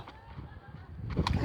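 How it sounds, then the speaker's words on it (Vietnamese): A bird calls close by in short, loud honking bursts, with the strongest call near the end and a noisy background behind it. "con chim"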